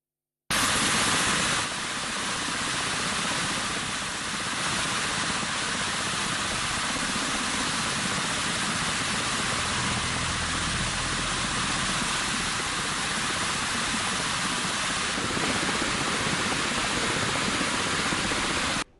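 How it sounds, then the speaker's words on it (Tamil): Water gushes from two opened spillway gates of the Rajangana reservoir after heavy rain, a loud, unbroken roaring rush heard close and alone for nearly twenty seconds. "கடும் மழையினால் ராஜாங்கரை நீர்த்தேக்கத்தின் இரண்டு வான்கதவுகள் திறக்கப்பட்டுள்ளன"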